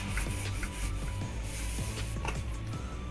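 A rolling pin rolls thin dough back and forth on a floured board, a continuous close rubbing and rumbling with light rhythmic knocks and no talking.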